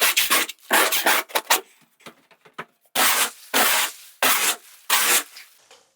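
A Speedskim scraper is dragged across a plastered wall in a series of separate, loud rasping strokes, some long and some short, with quiet gaps between them.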